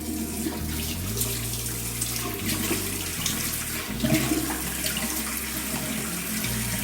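Fresh tap water runs steadily into a sink for washing the face, a continuous close splashing stream with slight shifts in flow and no talking.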